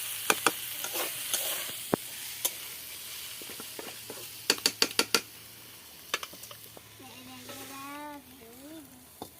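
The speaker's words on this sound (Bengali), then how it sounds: "সুন্দর শাক ভাজা হবে" Freshly washed garden leafy greens frying in a pan make a quiet sizzle, with scattered sharp stirring clicks and taps and a voice near the end.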